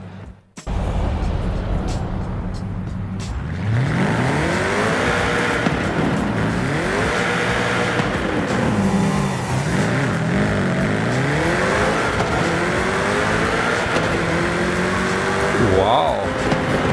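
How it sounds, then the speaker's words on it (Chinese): A 2019 Jaguar XE SV Project 8 V8 in Forza Horizon 5 roars through Guanajuato streets. It is loud and close, revving up and dropping through repeated gear changes, with a brief tire squeal near the end. "非常纯正的 V8 激增声浪， 车内也是非常的响亮"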